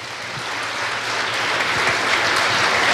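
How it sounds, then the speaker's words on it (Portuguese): A church congregation applauding during a sermon, a steady wash of clapping that swells slightly louder over three seconds, with no voices on top. "Aplauda o Senhor Jesus"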